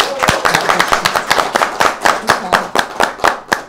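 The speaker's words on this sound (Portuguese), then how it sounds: "Podemos uma salva de palmas para ela?" An audience applauds a guest being welcomed at a talk event, a brisk round of loud, close clapping with sharp, evenly spaced claps that keep steady through the short burst.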